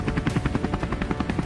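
Helicopter flying during a wild boar hunt, its rotor beating in a fast, steady rhythmic thump that stays loud and close throughout.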